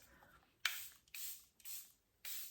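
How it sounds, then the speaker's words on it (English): A Charlotte Tilbury makeup setting spray is pumped onto a face in four quick, close, hissing spritzes, each short and evenly spaced, with soft quiet between them. "now I'm going to spritz with my setting spray from Charlotte Tilbury"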